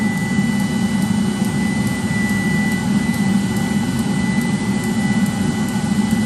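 A 30k BTU multi-fuel personal heater on an M35A2 deuce-and-a-half truck runs with a steady, loud, close-up roar and a faint steady whine, with no talking over it.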